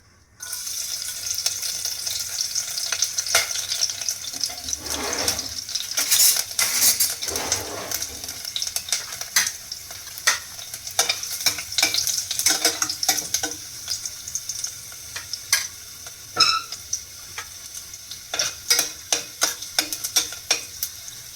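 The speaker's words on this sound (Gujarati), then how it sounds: "તેલ ગરમ થઈ ગયું છે। આપણે એમાં પહેલા લસણની કળી નાખશું।" Garlic cloves dropped into hot oil crackle and sizzle softly, with clattering stirs of a spatula, a brief watery splash and scattered sharp pops across a quiet kitchen backdrop.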